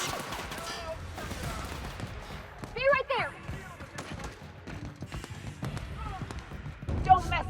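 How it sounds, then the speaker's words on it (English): Gunfire in a combat exchange from The Outer Worlds, with bursts and single shots cracking over the scene while voices shout and talk throughout, fairly loud and busy. "Returning fire!"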